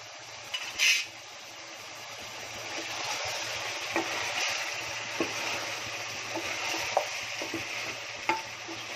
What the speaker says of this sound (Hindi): अब 10 मिनट गोश्त को भूनी।